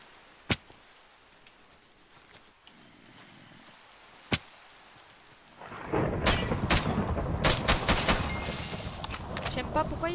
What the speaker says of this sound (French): T'as entendu mes tirs?